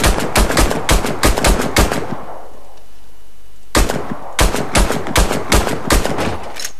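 Rapid bursts of gunfire from the first-person shooter game Warface, loud repeated shots in two clusters separated by a brief quiet pause, with no talking.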